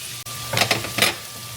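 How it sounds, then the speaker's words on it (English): Vegetables sautéing in a pan while being stirred, with a steady soft sizzle broken by a few louder scraping stirs close by. "Give it a stir. We're going to let these veggies soften."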